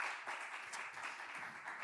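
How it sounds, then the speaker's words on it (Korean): Soft applause from a church congregation during a Sunday worship service, a brief, even patter of many hands clapping together at a moderate distance. "우리 다시 한번 우리 큰 박수로 격려하겠습니다"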